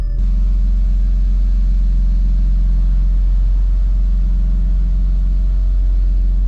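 A boosted Acura TL-S engine rumbles in a loud, steady low drone from inside the car while driving, with a constant road and engine hum and no revving peaks.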